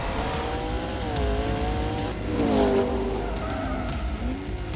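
A car spins its wheels in sixth gear, the engine note climbing and wavering in drawn-out tones while tyres scrabble, swelling loudest midway before easing back.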